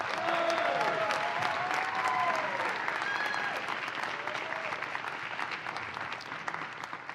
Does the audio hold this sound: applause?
yes